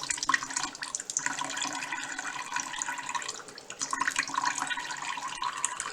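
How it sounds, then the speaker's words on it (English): A little water sloshes and rattles as it is shaken around a container to rinse salt off seafood, a busy continuous splashing that runs throughout with no talk. "just put a little water in there, and then shake it"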